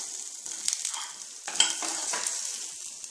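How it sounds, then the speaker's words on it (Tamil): Dried red chillies roast with coconut in a pan for a strawberry chutney, a soft, close sizzle and crackle with occasional scraping stirs and no talking. "இது கூடவே நம்ம எடுத்து வச்சிருக்கிற வரமிளகாவும் சேர்த்து வறுத்துக்கலாம்."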